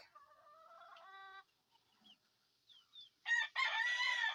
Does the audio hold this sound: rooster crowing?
yes